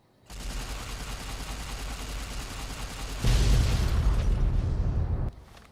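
Detonated explosive in the Fallout New Vegas video game: after a brief quiet start, a sustained roaring rumble sets in, then swells into a louder, heavier blast about three seconds in before cutting off abruptly.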